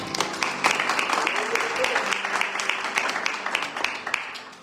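A church congregation applauds during a Spanish-language sermon, a dense, steady wash of clapping filling the whole stretch, with some voices mixed in.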